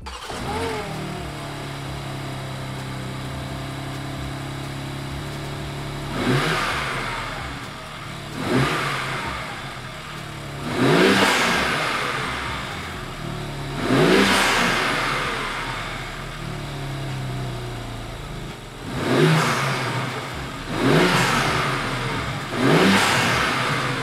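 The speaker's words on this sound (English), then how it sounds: "I'm gonna go ahead and crank it up, and we'll go ahead and give it a couple revs" A BMW G80 M3 fitted with an MST intake idles with a low rumble, then gets blipped repeatedly, its revs flaring up sharply and dropping back in a series of loud, close bursts.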